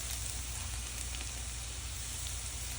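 Onion fries in a pan, giving a faint, steady crackling sizzle with no breaks and no voices.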